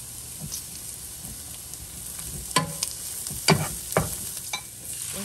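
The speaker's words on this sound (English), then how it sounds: "Then you're gonna add in your minced garlic and let that cook down." Red onions and minced garlic cook down in bacon fat for collard greens with ham hock, giving a steady close sizzle broken by several sharp spatula scrapes and taps against the pot.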